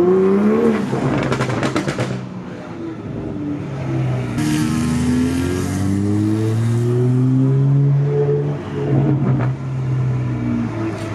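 A Toyota Supra MK5 A90 sports car engine revs hard several times, the aftermarket exhaust roaring and rising in pitch, loud and close with no talking.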